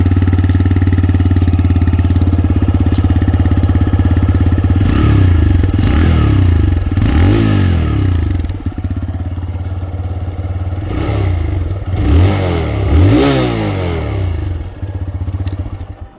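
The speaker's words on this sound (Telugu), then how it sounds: "ఎగ్జాస్ట్ నోట్ కూడా ఒకసారి ఆన్ చేసి చూపిస్తాను" A 2023 TVS Raider 125 motorcycle engine runs steadily at close range with a deep, thumping exhaust note, rising in two strong revs midway and again near the end before settling back to idle.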